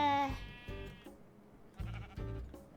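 Minecraft sheep bleat in a survival world, with a few short wavering bleats close by and fairly loud, separated by brief pauses and with no talk.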